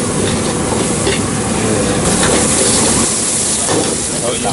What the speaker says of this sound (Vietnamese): Tỏi được bỏ vào phi.